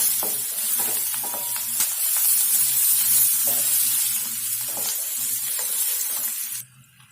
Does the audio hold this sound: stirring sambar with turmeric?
yes